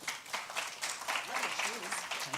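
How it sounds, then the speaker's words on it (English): Moderate applause from a small audience at a soapbox speaking event in Valencia, a steady wash of clapping with voices talking over it. "Round of applause, please."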